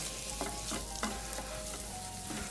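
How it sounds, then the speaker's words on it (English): Sweet Italian sausage frying in a little oil with salt and pepper in a pan on the stove, a steady close sizzle with a few soft stirring clicks and no talking. "Going to add our sweet Italian sausage, just a little bit of oil if it's not too fatty, some salt and pepper. Going to let this cook until it's done."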